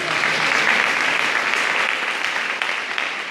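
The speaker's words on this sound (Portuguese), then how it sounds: "Pode dar uma salva de palmas para Jesus." A church congregation applauds during a live worship service, a dense, steady wash of clapping from many hands at close range that holds for a few seconds without talk.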